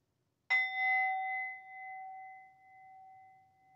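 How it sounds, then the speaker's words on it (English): A meditation bell is struck once, giving a clear metallic ding that rings on as a long, slowly fading tone in an otherwise quiet room. "I'm going to sound the bell"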